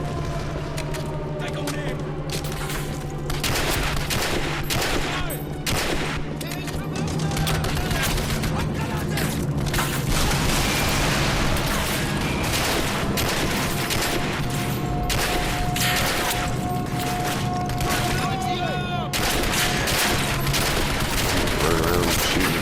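Video game gunfire in Turning Point: Fall of Liberty crackles in dense, rapid bursts of automatic shots and booms, loud and nearly nonstop, with someone talking over parts of it.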